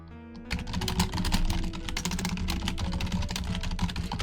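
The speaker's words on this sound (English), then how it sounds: "I have a very old noisy keyboard." Rapid, loud clacking keystrokes on a very old noisy keyboard, steady and close, starting after a brief moment of quiet hum.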